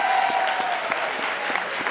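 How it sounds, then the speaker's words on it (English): Audience applause at a community women's health forum: dense, steady clapping from a crowd, loud and continuous throughout, with a faint tonal whine running beneath it. "Give him a big round of applause"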